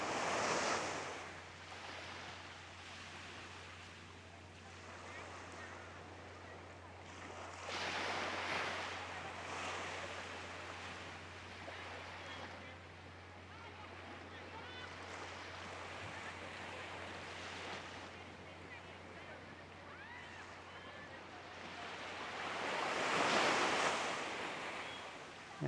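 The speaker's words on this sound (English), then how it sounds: "I did see some pretty good ocean surf breaks" Ocean surf breaking along a coastline, heard as a continuous rushing roar with slow surges that peak near the end, overlaid by wind noise and a steady low mechanical hum from a drone-like motor, with no talking.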